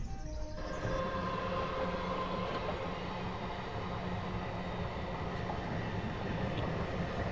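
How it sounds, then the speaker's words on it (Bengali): A local passenger train on a suburban line toward Kalyani and Ranaghat rumbles steadily past, close by. Its broad, continuous roar holds evenly from start to end with no talk. "পাশ দিয়ে চলে যাওয়া লোকাল ট্রেনটি কিন্তু চলে গেল আপনার কল্যাণী হয়ে রানাঘাটের দিকে"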